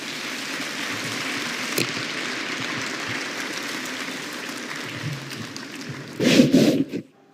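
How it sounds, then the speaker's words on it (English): Sustained crowd applause for panelists at the Global AI Summit on Africa in Kigali, a steady dense wash of clapping that swells louder near the end before cutting off. "another warm round of applause for our excellent panelists"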